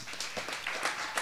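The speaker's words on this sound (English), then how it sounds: "Let's give a warm round of applause." Seated listeners give a warm round of applause at a music gathering as a singer is welcomed, a fairly soft, even patter of many hands.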